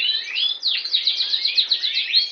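A champion Border canary sings close by in a quick, rolling sequence of sharp, high-pitched trilled notes, alone and clear.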